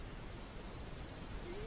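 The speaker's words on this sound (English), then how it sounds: "It's a waterfall!" Rushing water from a waterfall on Timon and Pumbaa's virtual safari ride makes a steady, even roar of broadband hiss. It holds at a low, constant level throughout with no other distinct sounds.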